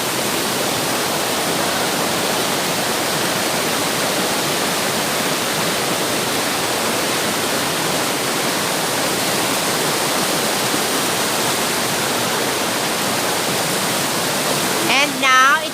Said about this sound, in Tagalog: And now, ito po ang aming napakalakas na tubig sa Barangay Mukas. This is Tamadong Falls